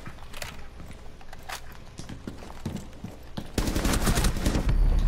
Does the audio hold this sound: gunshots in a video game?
yes